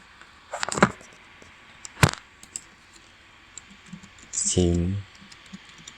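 A few scattered keystrokes on a computer keyboard as a Chinese supplier's name is typed, heard close in short clusters, with a brief voice near the end.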